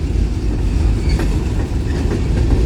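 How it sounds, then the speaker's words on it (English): A Union Pacific mixed freight train rolls past close by, its wheels making a loud, steady rumble with faint clacks running through it. "you can actually see like the movement of the wheels on the train"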